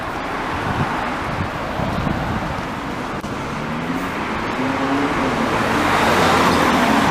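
Steady flow of cars and occasional buses rolling along Pie-IX Boulevard in Montreal's Hochelaga borough, a continuous broadband roadway rumble with wind buffeting the microphone and a passing vehicle swelling louder toward the end.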